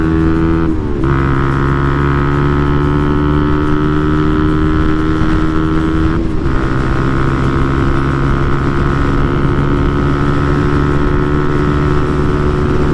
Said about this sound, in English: hitting the rev limiter.